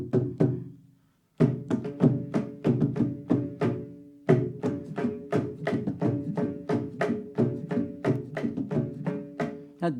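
A mridangam played solo with repeated gumki strokes, a rapid stream of resonant drum hits with bending low bass tones, close and clear after a brief pause near the start.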